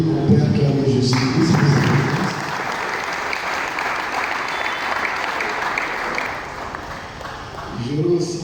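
Sustained audience applause greets a police captain standing at a provincial church leader's visit in Djili, with a voice heard at the start and end.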